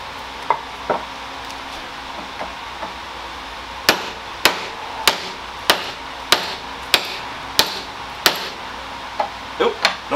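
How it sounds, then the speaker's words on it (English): Sharp hammer strikes during a mid-shaft bearing replacement on a 2003–2010 Saab 9-3, a few scattered taps at first, then a regular series of loud, evenly spaced blows close by. "don't want to get the hammer stuck in"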